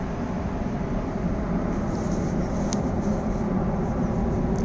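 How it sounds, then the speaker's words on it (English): An airplane passing overhead near Heathrow Airport gives a steady, moderately loud low roar that fills the whole stretch without pause, and no one speaks over it. "There's a plane going overhead because we're not far from Heathrow Airport, so it will be a little bit noisy."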